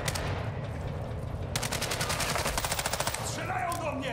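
Rapid bursts of automatic gunfire in Call of Duty: Modern Warfare II crackle loudly over a dense, noisy game soundscape, the shots coming in a quick rattling stream before tapering off.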